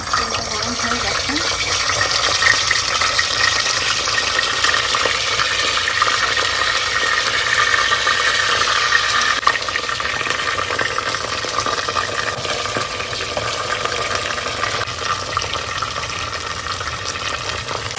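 Frozen prawns fry in hot oil with a steady, dense hiss and crackle that runs unbroken from start to finish at an even, fairly loud level.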